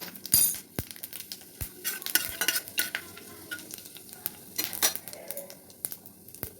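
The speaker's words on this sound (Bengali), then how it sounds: "তেল গরম হয়ে গেছে, এখানে আমি শুকনো লঙ্কা দিয়ে দেবো, 5 ফোড়ন দিয়ে দেবো" Dried red chillies and five-spice seeds sizzle in hot oil while a utensil scrapes and clinks against the pan in an irregular run of sharp knocks over the crackling hiss.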